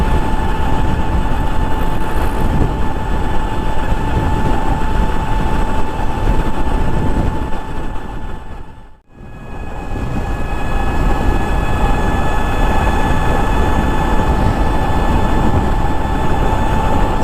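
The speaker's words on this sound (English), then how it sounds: "I've kept the throttle pinned," Ultraviolette F77 electric motorcycle held at full throttle in ballistic mode on a flat road, a loud steady motor whine over heavy wind rush, briefly dipping midway before resuming.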